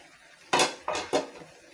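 A lid set down on a cooking pot of bottle gourd and fish: three sharp metallic clinks close by, the first loudest, the other two a quick pair about a quarter second apart.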